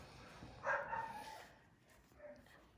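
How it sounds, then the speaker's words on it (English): Several dogs barking at a distance in a short burst, then trailing off into a few fainter yips, heard indoors with low room noise and no talking. "Are those our dogs doing that barking right now?"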